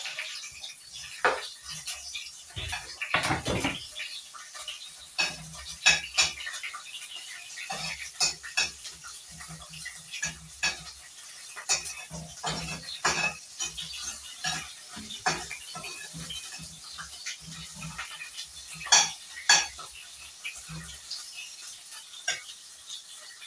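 Onions go into a pan and are stirred, with repeated scraping and clinking of a utensil against metal and a faint sizzle underneath, steady throughout.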